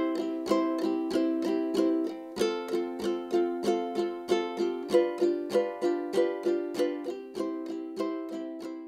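A ukulele strummed in steady down-up eighth notes, the bright, even chord strokes continuing without a break while the chord changes a few times.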